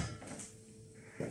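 A frying pan taken out of a kitchen cupboard: a faint wooden knock of the cupboard, then a brief metallic clatter as the pan is lifted, quiet and close.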